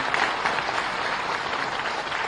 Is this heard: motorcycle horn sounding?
no